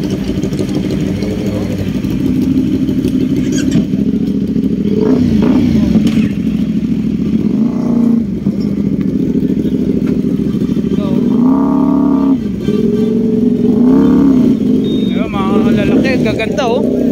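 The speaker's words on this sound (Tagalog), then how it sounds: "Kita yung mga motor nila oh, mga 1000cc" Big 1000cc motorcycles idling and revving nearby outside a roadside eatery, loud engine drone with repeated rising revs and clatter, people talking over it.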